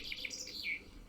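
Birds chirping in a quick series of high, short tweets, fairly faint, over a soft background.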